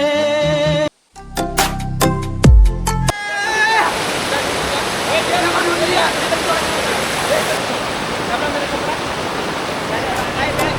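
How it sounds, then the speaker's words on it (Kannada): Kalu waterfall at Malshej ghat in Maharashtra, water plunging down in a steady broadband roar that runs close and loud through most of the stretch, after a few brief clattering and tonal sounds at the start. "ನೀರು ಜಾರಿ ಧುಮುಕುತ್ತಿದೆ."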